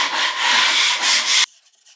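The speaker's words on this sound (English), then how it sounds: "just make sure you go over it with a sanding sponge" A sanding sponge scrubs a wall being prepared for wallpaper, giving a close, loud, steady abrasive rubbing of several strokes that stops abruptly about three-quarters through, leaving near silence.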